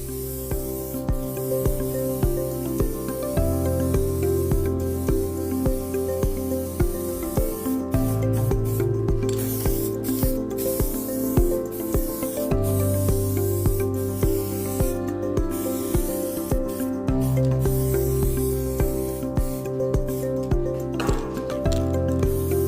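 A spray gun lays down U-POL Raptor chassis coating in a continuous airy hiss, heard alongside steady tonal background music with no speech.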